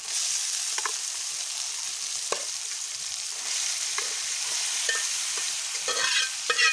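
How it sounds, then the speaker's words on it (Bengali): Duck meat sizzles in a hot pan with fried onions and ginger-garlic paste while a utensil stirs it, giving a steady crackling fry with repeated scraping and clinking strokes close by. "এখন আমি এটা মাংসটা দিয়ে দিব।"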